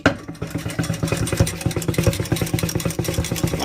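Electric mixer whipping eggs for a soufflé omelette, a close, steady motor whir with a fast rattling pulse from the beaters striking the bowl.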